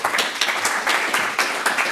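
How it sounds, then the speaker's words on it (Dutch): Lively clapping from an audience at a university lecture evening rattles on for two seconds, individual claps sharp and closely spaced with no voices over them. "En een heel groot applaus voor Dan Afrifa."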